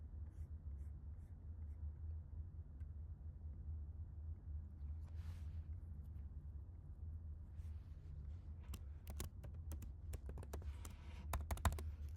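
Keys on a computer keyboard clack in a quick, uneven burst as a new password is typed, faint and close over a low steady room hum.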